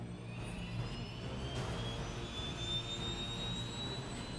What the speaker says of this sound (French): l'hélicoptère décolle